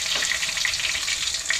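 Fish frying in a pan in a home kitchen in the Philippines, with a loud, continuous bright sizzle and crackle, close up and without talk.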